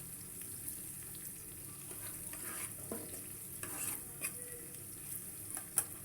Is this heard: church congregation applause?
no